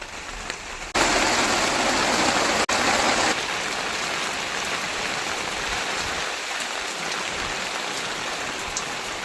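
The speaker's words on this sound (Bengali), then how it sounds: "এখন আবার বৃষ্টি পড়া শুরু হয়ে গেছে" Steady rain falls in a continuous wash, briefly louder and closer near the start, then settling into an even, constant patter.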